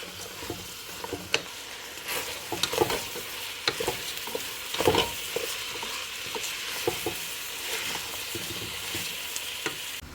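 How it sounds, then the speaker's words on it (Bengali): Masoor and mung lentils, soaked with rice, are stirred and fried in a pan: a continuous sizzle with frequent scraping and clattering strokes of a spoon throughout. "ডাল আমি এখানে মুসুরির ডাল আর মুগ ডাল দিয়েছি একটু নেড়ে চেড়ে ভেজে নিব"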